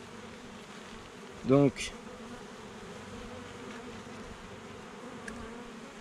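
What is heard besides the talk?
honey bees in an opened hive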